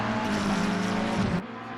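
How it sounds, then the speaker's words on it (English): Aston Martin V12 race car in Assetto Corsa Competizione at Bathurst, a steady loud engine drone with a sustained low tone that cuts off sharply near the end, leaving a quieter hum. "As you can hear the V12 in the background"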